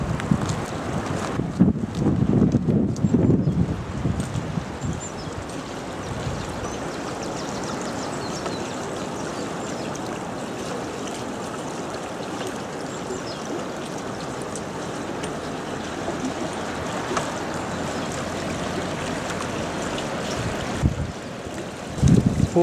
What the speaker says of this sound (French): Traverser le Falkensteiner Bach, un truc comme ça, une petite rivière, toute sauvage, toute mignonne